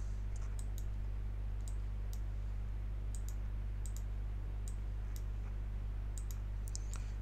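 Sharp, quiet computer mouse clicks on a website map come in scattered pairs and singles over a steady low electrical hum, with no talking.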